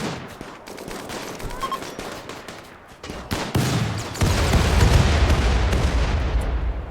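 Doomsday rocket launcher explosions in the video game Rimworld sound as a rolling series of booms and crackling blasts that swell into a loud, dense roar in the second half.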